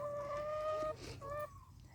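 Hens kept with a young rooster about six months old, clucking and calling in tonal bursts, close by, with a short break and a brief final call, no talk.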